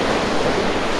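Sea waves washing up on a beach at Mrzeżyno on the Baltic coast, heard as a continuous loud broadband roar of surf with no individual breaks standing out and no voices.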